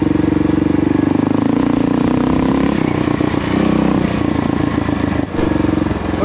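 A Kawasaki KLR650 single-cylinder motorcycle riding off-road on an unfamiliar trail, its engine droning loud and close throughout with a steady throb that dips briefly as the throttle eases.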